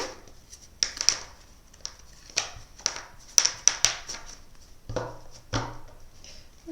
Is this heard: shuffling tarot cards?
yes